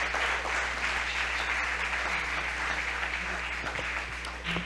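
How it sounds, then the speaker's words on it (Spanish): Congregation in a church claps together for several seconds, a steady, dense wash of applause with a low constant hum beneath and no talking. "Damos un aplauso a Dios"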